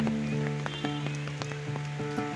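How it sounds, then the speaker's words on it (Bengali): Rain falling at a nature camp in a valley, a steady patter of drops on surfaces with scattered sharper individual hits, fairly quiet and constant. "ভালোই বৃষ্টি হচ্ছে"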